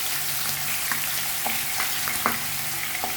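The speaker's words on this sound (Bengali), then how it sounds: "একটা একটা করে ভেজে নিই" Split rohu fish head pieces frying in hot oil give a continuous sizzling hiss scattered with small pops and crackles, close and fairly loud, with no talking.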